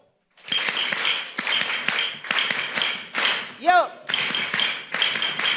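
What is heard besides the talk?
three-clap tejime clapping at Shinnen Enkai banquet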